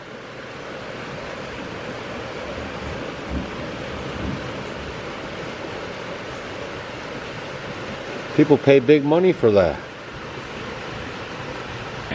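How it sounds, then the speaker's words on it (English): Heavy rain pours down outside a log home's window in a steady wash of noise. A person speaks briefly near the end. "And that is what you call a gully washer."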